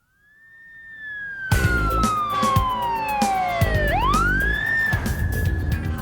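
A police car siren wails loud and close, its pitch sweeping down and then sharply back up while the vehicle is under way, with no talking over it.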